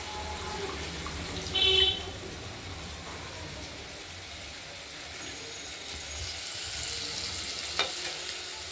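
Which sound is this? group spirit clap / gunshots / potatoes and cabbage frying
potatoes and cabbage frying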